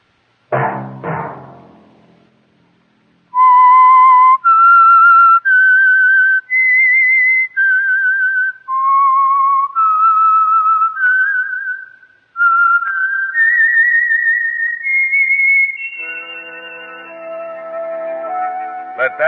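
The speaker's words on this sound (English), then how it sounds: "Let that whistle be your signal" A lone whistled melody, the theme of The Whistler radio mystery show, rises and falls in clear sustained notes, loud and close, after a brief spoken opening and before orchestral chords come in.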